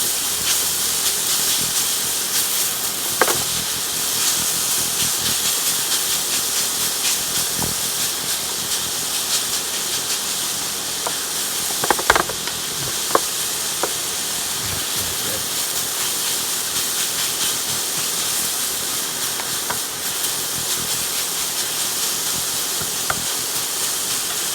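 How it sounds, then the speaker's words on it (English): Turnip hash browns and onions fry in a pan, a steady loud sizzle and hiss throughout with occasional small pops and clinks of stirring. "take maybe 6 or 7 minutes to fry up in the pan"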